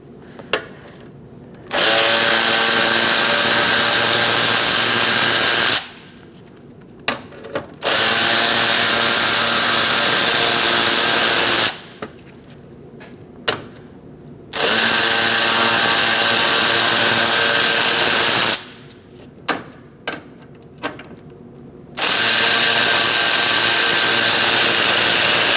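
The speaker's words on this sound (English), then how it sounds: "Using a 7mm socket, we're going to remove these 4 bolts." A 7mm socket on a powered driver backs out four bolts from the front grille of a 2016-2019 Chevrolet Cruze: four long, loud whirring runs separated by brief pauses with small clicks.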